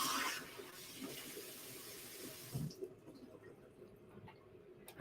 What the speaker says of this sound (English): we just rinsed out the shaker for the next drink